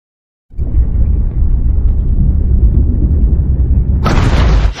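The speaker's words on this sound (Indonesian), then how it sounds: "terjadi sebuah ledakan di kapal selam milik Rusia" A film explosion aboard a Russian submarine: after a brief silence a deep, heavy rumbling boom swells in and holds, then a harsher hissing blast layers on top near the end, loud and close.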